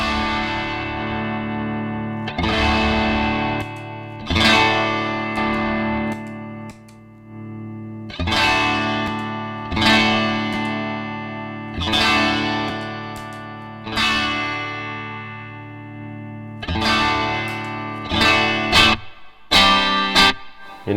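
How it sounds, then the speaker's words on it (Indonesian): An electric guitar played through The Duchess reverb pedal in a send-return loop: repeated strummed chords ringing out with long washy reverb tails, evenly spaced, then a quicker choppy burst at the end. "Ini reverb dari si The Duchess ya."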